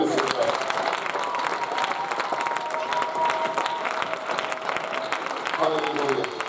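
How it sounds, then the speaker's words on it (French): A church congregation applauding and acclaiming the Lord during a prayer service: steady, dense clapping from a crowd throughout, with cheering voices mixed in. "Est-ce qu'on peut encore acclamer le Seigneur?"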